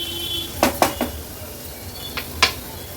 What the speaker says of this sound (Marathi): टोमॅटो व्यवस्थित मिक्स करून घेते